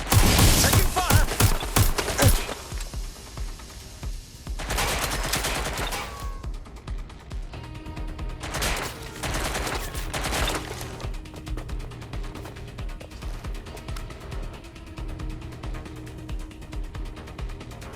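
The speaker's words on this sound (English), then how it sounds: "Taking fire!" Enemy gunfire in Watch Dogs: Legion: dense bursts of rapid shots, loud and close at the start, then scattered volleys and mechanical clatter continuing under the action.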